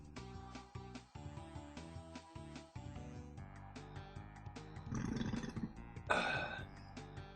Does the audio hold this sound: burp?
yes